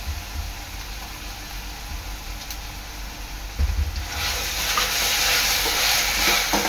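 Ginger garlic paste hits hot oil in a pan with onions fried until red; a steady low stir gives way to a sudden, loud, bright hiss that keeps sizzling strongly to the end.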